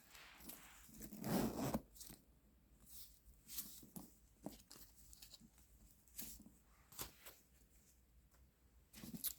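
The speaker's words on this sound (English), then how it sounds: "Very deep zipper, deep pocket." The deep zipper pocket of a black leather Dooney & Bourke Kiley hobo handbag being worked, with a quiet close zipping rasp at the start followed by soft scattered scrapes and rustles.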